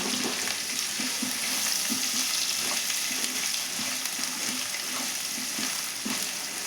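Onion pieces fry in a little oil in a pan, a soft, steady sizzle with faint crackles and occasional stirring taps, heard alone and fairly quiet.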